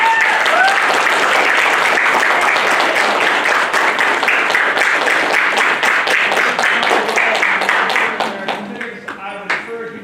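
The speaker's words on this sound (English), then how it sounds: "A round of applause for them." Dense, loud audience applause greets newly commissioned JROTC officers at a 2022 commissioning ceremony, sustained for about eight seconds before thinning out into scattered claps.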